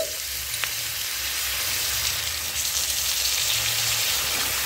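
Pointed gourd and paneer curry with cashew paste sizzles in a pan over a village-style stove, a close, constant frying hiss with light stirring scrapes and no voices.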